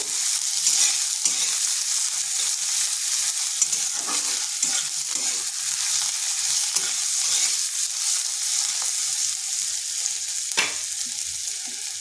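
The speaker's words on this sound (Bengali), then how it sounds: "পেঁয়াজটাকে খুব বেশি ভাজবো নি, হালকা একটু ভেজে নেব।" Onions fry lightly in a pan with a bright, constant hiss of sizzling oil, broken by a few soft stirring knocks and one sharper scrape near the end.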